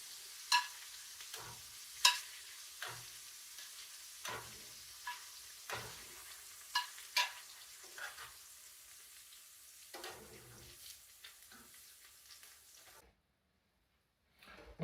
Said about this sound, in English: that pan is hot. Geez, that's cooking up rather fast. Of course, it's pork